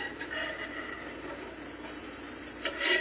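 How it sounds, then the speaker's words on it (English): Roti crisping in butter in a pan, a soft steady sizzle with light scraping and utensil clinks, quiet overall with a brief louder stir near the end. "because we're actually kind of frying these"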